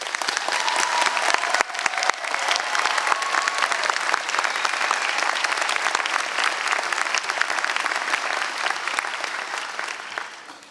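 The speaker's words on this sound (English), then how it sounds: "Join me in a round of applause." A master's commencement audience at CSU Chico applauds in a sustained, dense burst of clapping that fills the hall at even strength before tapering off at the end.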